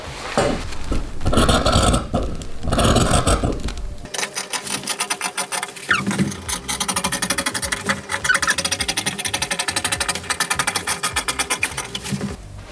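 Scissors cutting plaid fabric on a table with long strokes, a close crunching rasp in repeated rhythmic snips, denser sweeps at first then a quick regular series.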